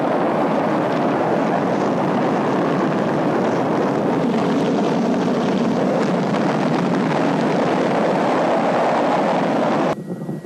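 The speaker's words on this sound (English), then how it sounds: "10, 9, ignition sequence start" Rocket engine ignition and launch, a loud, continuous broadband roar that rumbles steadily for about ten seconds before cutting off abruptly.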